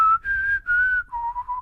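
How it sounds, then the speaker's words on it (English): A short whistled melody from The Hunger Games, the Mockingjay call: four sustained clear tones in a rising-then-falling pattern, the last lower and wavering, whistled alone at close range. "the Mockingjay whistle"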